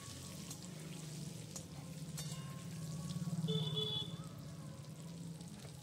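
Potatoes frying in oil with salt, turmeric and dry chili powder give a steady, close sizzle that swells briefly in the middle, with a few light clinks and scrapes over it.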